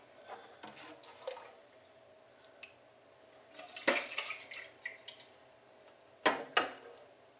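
Whey from fresh goat cheese drips and trickles out of the holes of a cheese mold, a scatter of faint, irregular drops and small splashes, with a couple of louder clusters of splattering, in a quiet room.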